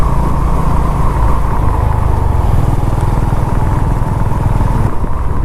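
A motorcycle rides up a cool hill road toward Mullayanagiri in Karnataka, its engine a steady, loud, continuous drone with wind rumble, close to the rider and with no speech over it.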